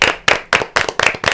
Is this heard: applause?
yes